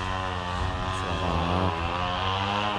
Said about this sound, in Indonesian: gergaji mesin motong kayu.